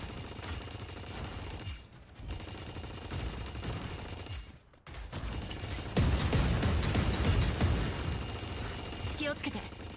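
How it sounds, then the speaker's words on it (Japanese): Bursts of rapid gunfire and explosive blasts from the mech shooter game Super Mecha City, loud and sustained, with brief lulls and a voice speaking over the action. "銃声が聞こえた。"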